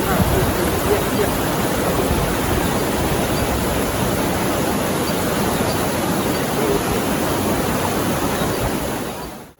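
River water flowing steadily at a riverside campsite in Rancabali, Bandung, a dense, loud, unbroken rush that holds constant throughout and cuts off abruptly at the end.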